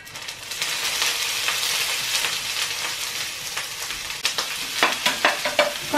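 Ginger paste frying in a little coconut oil, a continuous bright sizzle with stirring scrapes and a run of sharper spatula taps against the pan toward the end.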